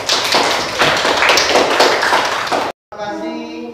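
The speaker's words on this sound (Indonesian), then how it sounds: "Tepuk tangan." Students in a classroom break into a burst of hand clapping, dense and fairly loud for a few seconds before it cuts off abruptly.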